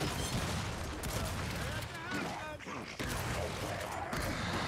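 Gears video game combat fills the air with dense, rapid gunfire and mechanical clatter, continuous and fairly loud with a short dip midway, while a voice talks over the shooting.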